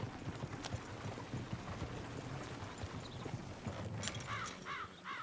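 Horse hooves clip-clop in Red Dead Redemption 2, a steady rhythm of moderate, fairly close steps over an outdoor ambience, with faint bird calls near the end.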